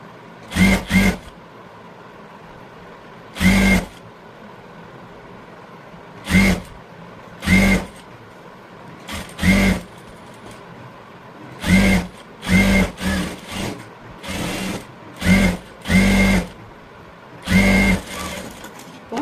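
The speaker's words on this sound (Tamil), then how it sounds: "எட்ஜில் தையல் போடுங்க" A sewing machine stitches along the edge of a blouse in about a dozen short, loud bursts of running needle, separated by brief pauses, with no talking.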